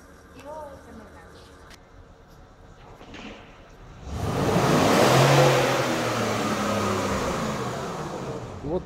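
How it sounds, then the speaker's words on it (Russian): Studless tire spinning on ice with its retractable studs pulled in, a broad rising roar of engine and wheelspin that swells loud after a quieter start with faint voices. "Вот так вот на льду, когда шипы не выпущены, прокручиваются колеса."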